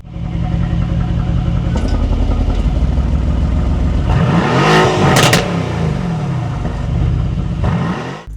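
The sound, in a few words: 2018 Mercedes-AMG GT-R engine revving with loud exhaust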